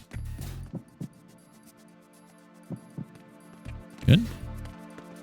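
Rhythmic heartbeat-scanner thumps from the Metal Gear Solid 2 video game, several low pulses spaced about a second apart with a louder double beat near the end, while a player talks over them.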